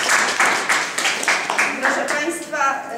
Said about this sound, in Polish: To wielkie brawa.